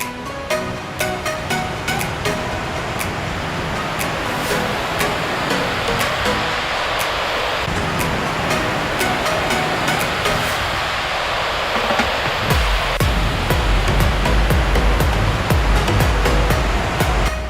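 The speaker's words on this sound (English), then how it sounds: "this fountain was a beautiful way to start the morning" Waterfall fountain at Hines Waterfall Park in Houston, a steady loud rush of falling water filling the whole clip with broad continuous noise that deepens toward the end.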